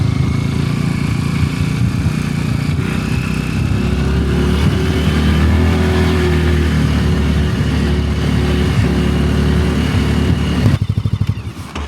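Lambretta G350 scooter fitted with Öhlins rear shocks riding over a cobblestone stretch, a steady loud engine drone with rough rumbling road noise throughout, ending in a brief burst of engine pulses.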